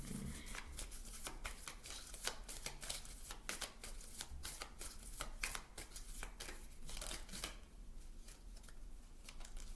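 Tarot cards being shuffled and drawn up close, a quiet run of crisp riffling flicks and slaps in irregular bursts, no talking.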